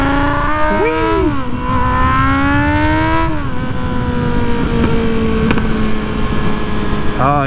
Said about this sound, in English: nothing like a little power wheelie